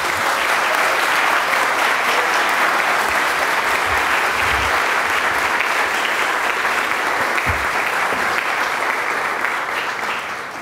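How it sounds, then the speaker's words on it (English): Sustained, dense applause from an audience at a city employee awards ceremony, loud and even for about ten seconds before starting to fade slightly at the end. "Can we give them A round of applause."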